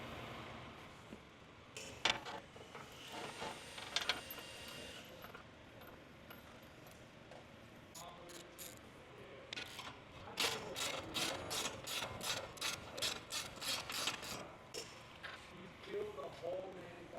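A hand ratchet clicks in quick bursts while bolts are tightened on vehicle body panels, sharp close rattling runs of clicks separated by quieter handling noises.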